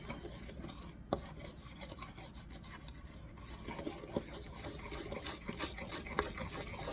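Brunch loaf batter being beaten in a bowl makes continuous close scraping and rasping with irregular small knocks against the bowl, steady throughout at moderate volume and without speech.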